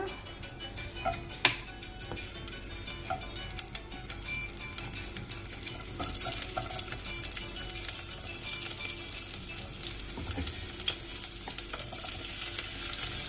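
Green chillies frying in hot oil, a soft continuous sizzle with scattered pops and light scraping clicks from stirring, fairly quiet and close throughout.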